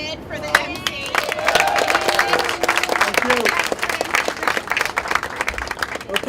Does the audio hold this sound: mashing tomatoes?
no